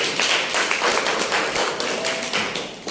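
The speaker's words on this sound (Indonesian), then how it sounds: "Tepuk tangan dong buat karyanya Mbak Naila Tri." A classroom of students applauds a classmate's art project in a school art lesson, a loud, dense, continuous patter of many hands close by.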